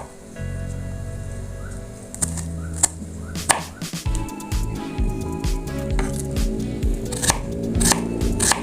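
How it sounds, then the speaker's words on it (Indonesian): Knife slicing green onion stalks thinly on a cutting board, a rapid run of crisp, close chopping taps following an opening stretch of low background hum. "Batang daun bawangnya kita iris tipis."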